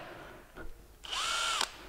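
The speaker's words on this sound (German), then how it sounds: "Guck mal, der bohrt ja nicht mal" A power drill whirs briefly after a short buzz, its motor pitch rising and holding steady for about half a second before cutting off.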